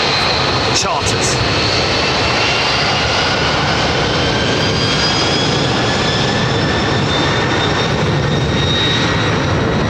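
A light aircraft, seats removed for cargo and charter use, taking off at London Heathrow Airport with a loud, steady jet roar throughout and a faint high whine on top.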